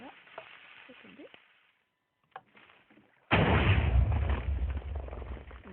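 A player-built cannon fires in a video game: after quiet scattered game noise, a sudden loud boom at about 3.3 seconds gives way to a sustained rumbling, crackling blast that fills the rest of the clip.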